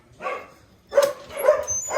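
Dogs barking in outdoor kennel enclosures: one short bark, a pause, then three more barks in quick succession, close and fairly loud with no talk.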